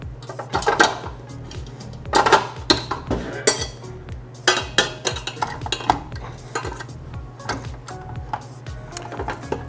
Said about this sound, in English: So we're gonna mix everything up in our stand mixer.